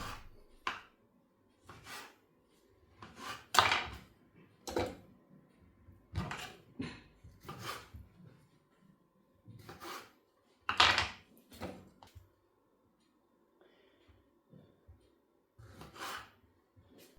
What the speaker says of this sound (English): Let's start by cutting the fresh tomatoes into pieces to mince them in a food processor